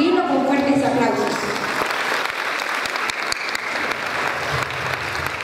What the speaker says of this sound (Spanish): a quien pido por favor recibirlo con fuertes aplausos